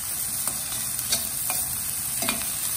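Prawns frying in a pan for a pepper fry, a soft sizzle under several light stirring scrapes spaced about half a second apart, close and moderately quiet, with no talking.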